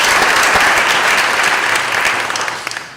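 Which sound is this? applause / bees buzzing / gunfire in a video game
applause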